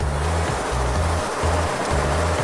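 A STAUFF particle counter's flush valve pushes hydraulic fluid through the unit. A loud, steady rushing hiss carries a low mechanical hum that pulses on and off in regular bursts about every half second.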